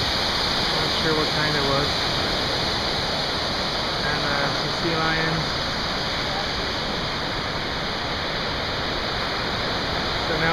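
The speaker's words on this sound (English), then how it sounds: "The waterfall. Pretty sweet spot." Tsusiat Falls on the West Coast Trail roars in a constant, loud broadband rush of falling water, steady throughout, with a person talking over it.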